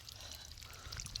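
Water pours and trickles steadily in an outdoor garden setting, with a continuous splashing flow heard close by throughout, with no voices.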